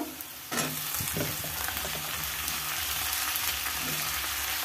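Brinjal pieces drop into a hot pan for an Andhra-style pulusu, setting off a sudden sizzle that settles into a steady, fairly loud frying hiss with a few utensil knocks.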